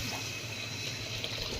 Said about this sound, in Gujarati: એક લોટો પાણી દઉં